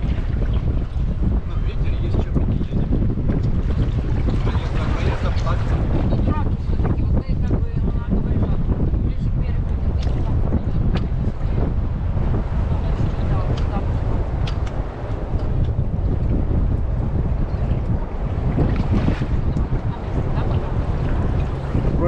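Strong wind at sea buffets a catamaran stopped and turned side-on off Mexico, a continuous loud roar with gusts and water slapping against the hulls, filling the whole stretch close to the microphone.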